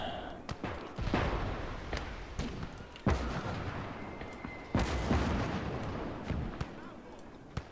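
Mortar fire and other battle noise in the war video game Conquest Enhanced lands as repeated heavy booming thuds over a continuous rumbling din, several blasts spread across the stretch.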